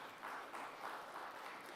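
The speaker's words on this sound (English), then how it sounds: "Give yourselves a round of applause." A church congregation at an Episcopal parish meeting claps together in a steady, sustained round of applause that sounds faint and somewhat distant throughout.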